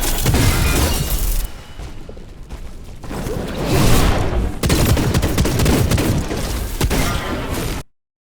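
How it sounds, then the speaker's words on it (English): Tempest weapon in the Wayfinder video game unleashing its Bullet Storm ability, a dense, loud barrage of rapid gunfire blasts and crashing impacts sustained for several seconds before cutting off. "The weapon ability, Bullet Storm, consumes all locked and loaded charges and fires 2 rapid blasts per charge."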